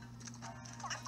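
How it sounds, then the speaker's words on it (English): Horse hooves clip-clopping in the video game Miitopia, with a quick patter of light hoofbeats under steady game music and a speaking voice. The sound is brief and fairly soft in the mix. "Wait, did Vito get off the horse to help me up?"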